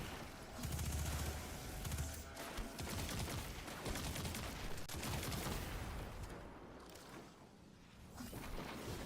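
SMG fire in Destiny 2 comes as a steady, fast stream of rattling shots lasting several seconds, fairly quiet overall and continuous, with a brief lull before firing picks up again.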